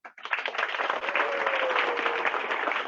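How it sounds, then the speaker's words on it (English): An audience gives a round of applause for primary-school students at a school Wari celebration: dense, steady clapping from many hands that swells quickly and holds through to the end. "Let's welcome with a huge round of applause the students"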